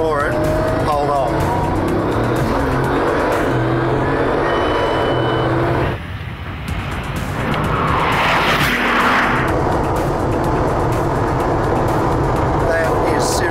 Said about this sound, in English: I'll kick it back to first and I'm going to floor it.